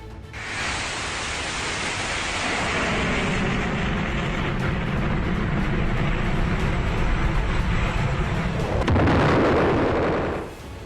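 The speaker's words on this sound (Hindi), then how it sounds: "यूक्रेन ने पहले दागी अमेरिका की ATACMS मिसाइल" Ukraine fires an American ATACMS missile: a loud, sustained roaring rush that holds steady for about ten seconds and then cuts off sharply.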